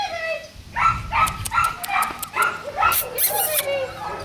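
Puppies bark and yip in a quick run of sharp, high calls during outdoor play, close by, with a person talking over a low background rumble.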